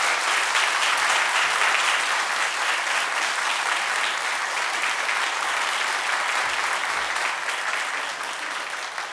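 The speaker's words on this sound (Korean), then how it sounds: "우리 시상을 하실 때 우리 큰 박수로 격려를 부탁드리겠습니다" Steady, dense applause from a church congregation during a Sunday award ceremony, sustained and fairly loud throughout without a break, fading only slightly toward the end.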